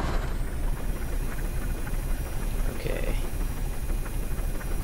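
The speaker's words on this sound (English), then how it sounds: "Engine start." A ship's engine starts up in the Stormworks video game, a steady, dense, loud low rumble that continues unbroken, with a brief higher whine near the end.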